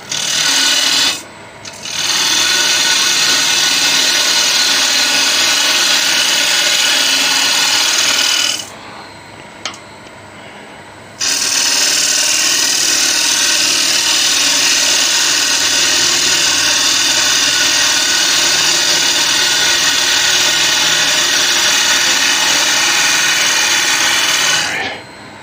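A gouge cuts wood on a spinning lathe while a candle jar holder is turned, a loud steady rasping hiss that runs in long stretches. It breaks off twice for brief pauses and then resumes.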